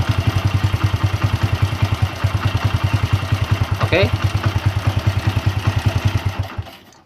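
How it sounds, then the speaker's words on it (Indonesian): Honda Win motorcycle engine idling with a worn, noisy cam chain, a steady close rhythmic chugging thump with metallic ticking clatter on top, running about six seconds before cutting off; a brief word is spoken near the start. "Untuk bunyinya ini jelas banget si keteng ya"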